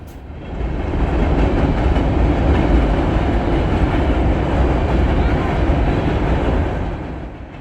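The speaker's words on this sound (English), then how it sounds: "we caught up with 3 EMDs. SD60 6951, along with an SD70 ACE and an SD70 ACC" A train of EMD SD60 and SD70 freight locomotives hauling gondolas and hoppers rolls over the Harpersville Trestle, a loud, dense rumble and rattle that swells in, holds steady at close range and fades slightly at the end.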